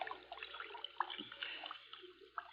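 In a radio drama, water sloshes and splashes as a body is dragged into a stream, a faint, continuous liquid rustle with small splashes and no voices.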